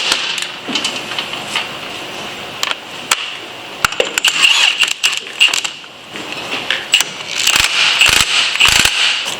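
A wrench works a reverse-thread nut onto a Harley touring bike's open belt drive pulley, giving close metallic clicks, ratcheting and clinking in irregular bursts, with no talking.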